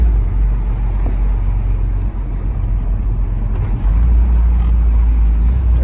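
A Ferrari 488 with a loud aftermarket exhaust rumbles deeply and continuously, heard from close by, growing heavier and louder in the last couple of seconds.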